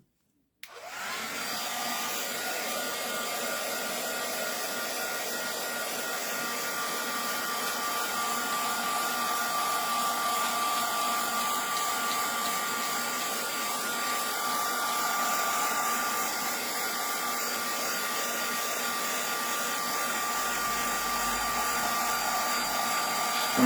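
Steady, continuous whoosh of a handheld heat tool blowing over altered artwork to dry it, close and even in level for the whole stretch, with no talking.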